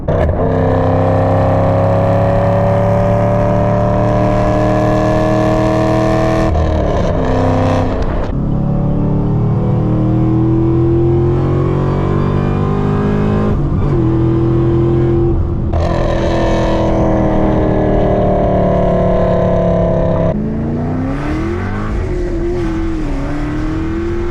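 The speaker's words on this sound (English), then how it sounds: "going for a spirited cruise in my 2013 Camaro ZL1" A 2013 Chevrolet Camaro ZL1 revs and accelerates hard on a spirited cruise, its engine note rising through repeated gear pulls with brief shifts between, loud and close, with no talking.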